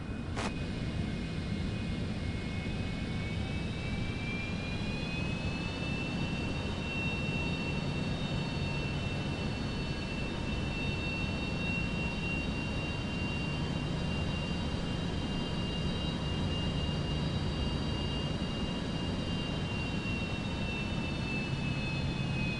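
A jet airliner in Microsoft Flight Simulator 2024 on PS5, taking off from runway 8 at Phoenix: a steady, loud engine roar with a high turbine whine that climbs early and then holds, alone without voices.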